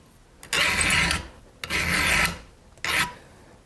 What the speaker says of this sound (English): And I usually go in with a flat file after and file down the rakers.